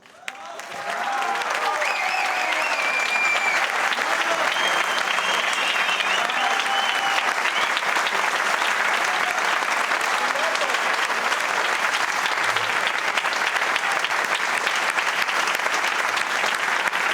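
Audience applause and cheering for the runner-up at the 2019 World Pool Masters final, a dense, continuous clapping roar that rises quickly and holds steady throughout, with some voices underneath.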